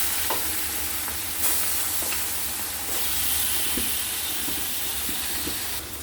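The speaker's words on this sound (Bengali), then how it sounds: "মেখে নিয়ে মাছগুলো দিয়ে দিলাম। মাছটা আমরা বেশি ভাজবো না," Hilsa fish pieces frying lightly in a pan of oil, a steady close sizzle and hiss with a few soft clinks and stirring sounds throughout, no voices.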